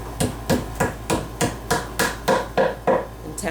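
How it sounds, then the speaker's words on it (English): A hammer taps a wooden peg into a drilled hole in a wooden media shelf, giving about eleven sharp, evenly spaced knocks, close and fairly loud, with nothing else behind them. "and then you take your hammer"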